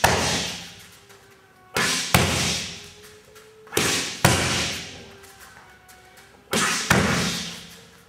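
Martial arts strikes, a jab and a right round kick to the leg, land as loud, close thuds on a pad or bag in four paired bursts, each a sharp impact followed by a quick second hit, with short pauses between.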